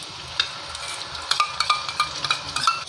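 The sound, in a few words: stirring yogurt spice paste into fried ginger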